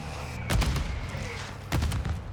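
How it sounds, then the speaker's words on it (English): Two mortar explosions in Call of Duty: Modern Warfare 2, loud booming blasts about a second apart that ring out over a rumbling battlefield background. "Mortar got me."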